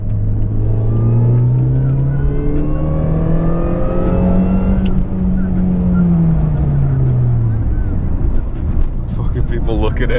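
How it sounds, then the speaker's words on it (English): Mini car pulling hard in second gear, its engine rising in pitch as it revs up and then easing off, loud and close throughout. "maybe do a fucking pull second gear real quick"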